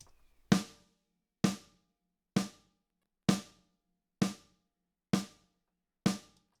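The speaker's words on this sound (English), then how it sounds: "So that's just the snare on its own with a little bit of a mix of a slightly" Seven evenly spaced snare drum hits, a dry snare blended with a more resonant snare through a drum bus, each crack sharp and decaying quickly into silence, moderately quiet and alone.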